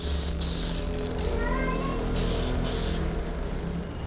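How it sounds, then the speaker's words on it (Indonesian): Spray paint hissing out of a can of Titan Premium pastel yellow (9532 V) in thin coats, with short bursts of spray over a low steady background. "semprot 2 hingga 3 lapis ya teman-teman"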